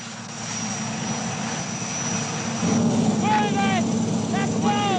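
Military helicopter ferrying an airborne army demolition party, a steady loud rotor and turbine drone throughout, with chirping whistles and a raised level in the second half; a voice may be present under the engine noise.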